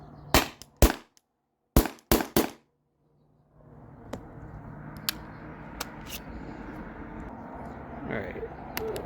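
A Salt Supply S2 salt gun running on an HPA tank fires five sharp, close pops in quick succession, followed by a steady low hiss of air with a few faint clicks.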